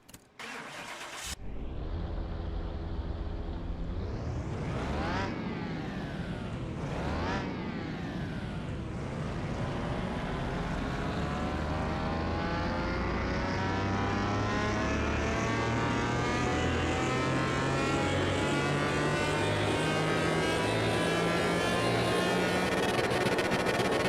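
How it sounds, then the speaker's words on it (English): A drag racing car engine in a video game starts with a crank and burst, then sweeps up through repeated revs before holding a long, steadily climbing roar on a dyno run, loud and alone. "So let's go ahead and run the dyno."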